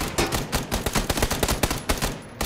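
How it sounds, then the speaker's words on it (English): Rapid, loud bursts of automatic gunfire crackle in quick, uneven succession in PUBG on PS5, with short pauses between volleys and no speech over them. "Shoot him, Junior!"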